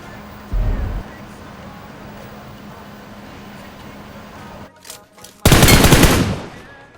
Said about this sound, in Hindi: पीछे वाला बंदा मेरे को फायर दे रहा होता है